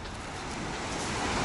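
Sea waves washing onto a shore at a Turkish seaside resort, heard as a steady, broad rushing surf that swells slightly louder toward the end, with a hint of wind and no voices.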